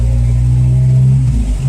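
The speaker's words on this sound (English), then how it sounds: "And I'm going to get on that road and then floor it." A Jeep engine with an exhaust leak revs hard at full throttle in fourth gear, giving a loud, steady droning roar with a rough low growl that shifts pitch briefly near the end.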